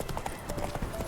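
Horse hooves clip-clopping in The Witcher 3: Wild Hunt as the horse walks along, a quick steady rhythm of soft thuds close by, with game ambience underneath.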